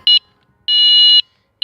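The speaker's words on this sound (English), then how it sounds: "it's how long you want the alarm to go off" Burglar alarm at a rubbish dump emitting loud, shrill electronic beeps in quick pulsed bursts separated by short silent gaps.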